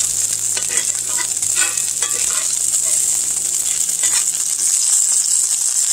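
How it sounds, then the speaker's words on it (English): Garlic sizzling steadily in a very hot skillet, a continuous bright frying hiss with faint stirring scrapes and small pops, close and even throughout. "Now we want to just brown our garlic slightly."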